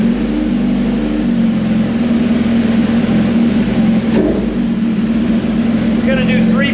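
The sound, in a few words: GSXR 1000 motorcycle engine revving on dyno pull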